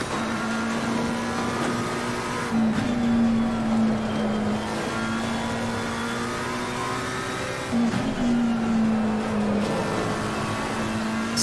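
A McLaren 720S engine drones steadily inside a sim racing game, holding a strong, even pitch with brief dips and climbs as it shifts gears, loud and continuous with no voices.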